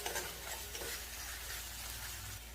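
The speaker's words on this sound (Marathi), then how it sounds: "घरगुती मसाला व्यवस्थित असं परतून घ्यायचं." Homemade masala paste sautéing in oil in a pan, with a steady low sizzle and the scrape of stirring throughout, close and fairly quiet.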